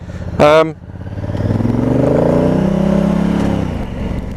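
A Honda CRF1000 Africa Twin DCT motorcycle rides through town traffic, its engine droning steadily and rising in pitch, with a brief voice near the start.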